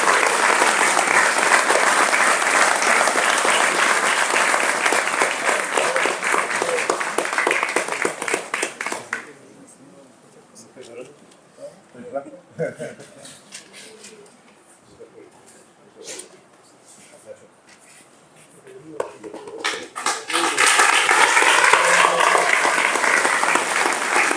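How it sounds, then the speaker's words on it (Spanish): Applause at a literary tribute ceremony honoring a writer in Castro: long, loud clapping from the audience dies down to a quiet stretch with scattered voices and movement, then swells back into full applause. "Así que le pido un fuerte aplauso para Mario."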